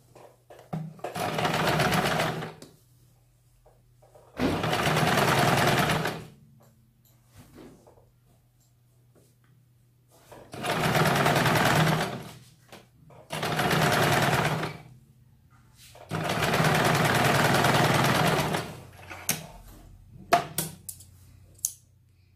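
Sewing machine stitching a cloth strip onto a petticoat, running in five steady whirring bursts of a few seconds each, separated by quiet pauses with a low hum underneath, close by.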